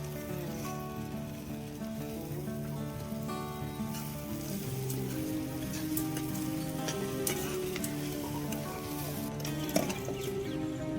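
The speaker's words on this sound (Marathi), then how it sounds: "ते आता याच्यात कढईत आपण टाकून देऊ, थोडे थोडे करू करू." Soaked poha is tossed into a kadhai and stirred, a soft, steady sizzle with light crackling and occasional scrapes close by, set against a faint tonal hum and no talk.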